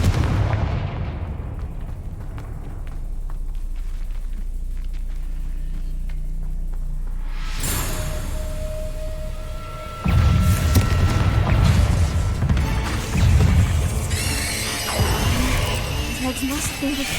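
A Confringo blasting spell goes off in Hogwarts Legacy during a spider fight: a loud burst around the middle, followed by busy crashing, rumbling game effects and a steady music bed.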